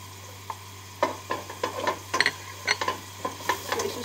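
Garlic frying and being stirred in a pan while cooking chicken calderita, with soft sizzling and irregular scraping stir strokes, close and alone with no talk.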